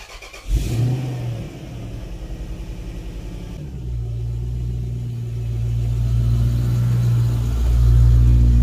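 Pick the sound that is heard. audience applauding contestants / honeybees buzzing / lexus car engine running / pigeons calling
lexus car engine running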